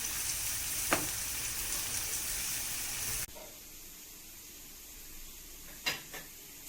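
Sliced onions fry in coconut oil in a pan, a faint, steady sizzle and hiss with a couple of soft stirring clicks, no voices.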